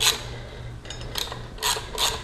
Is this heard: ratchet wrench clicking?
yes